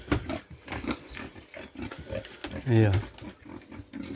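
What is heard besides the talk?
pigs grunting on a farm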